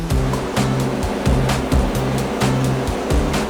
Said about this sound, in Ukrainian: Потім включають десь тисячу обертів і тоді вода відходить, а сіль виходить вже сухіша.